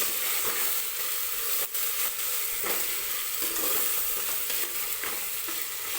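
Ginger garlic paste sizzles steadily in hot oil inside a pressure cooker for mutton biryani, a dense continuous fry with a few soft stirring scrapes and no voices.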